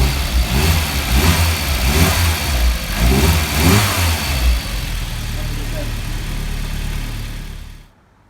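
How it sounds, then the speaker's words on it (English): A VW Mk1 Golf Cabriolet diesel engine runs loud and close after a cold start, with a rough rhythmic clatter and some revving, then cuts off abruptly near the end while people talk over it. "So that's just a cold start with no issues whatsoever with it."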